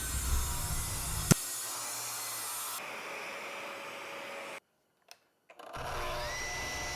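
A SawStop cabinet table saw runs loud and steady while cutting plywood, squaring off the board's end, with a sharp knock early on, a brief drop to near silence and then the motor whirring back up.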